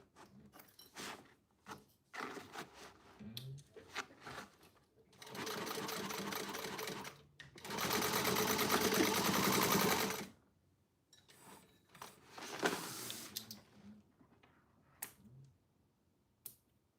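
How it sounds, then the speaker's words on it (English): A sewing machine stitches a strap onto a wax canvas tote bag, starting in short bursts, then running in two sustained loud passes before stopping, with handling clicks and rustling between runs. "I'm going to stitch in my strap."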